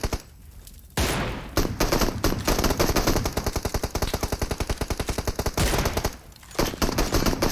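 Rapid automatic gunfire in PUBG Mobile, sustained bursts of dense machine-gun fire with a brief pause and then more loud shooting close by.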